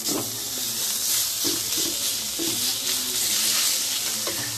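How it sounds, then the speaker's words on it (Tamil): Chicken keema sizzles steadily in a pan over low flame, a continuous close frying hiss with faint crackles throughout and no talking. "இதை லோ ஃப்ளேமில் டென் மினிட்ஸ் நல்லா சாதை பண்ணிக்கிட்டு வைக்க போகிறோம்"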